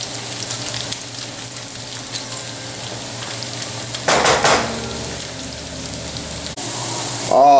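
Pancetta fries in a pan with a steady close sizzle, broken by a burst of louder spatter and a few clinks near the end.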